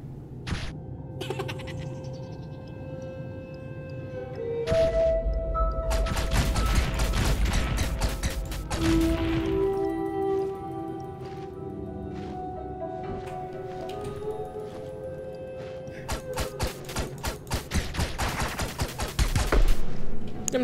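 Bursts of rapid gunfire ring out in the Owlboy video game, repeated volleys spread across the stretch amid chirpy game tones and mechanical effects, loud and close with little talk.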